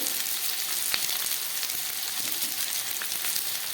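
Pumpkin and potato pieces frying with salt and turmeric over lowered heat, a steady dense sizzle running throughout with occasional small crackles and pops, close and alone without talk.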